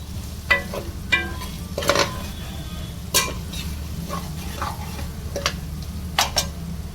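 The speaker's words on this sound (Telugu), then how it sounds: "ఇది కొద్దిసేపు ఫ్రై చేసుకోవాలి" Ginger paste frying quietly in a pan while a utensil scrapes and taps against it several times, irregular stirring clatter, no talking.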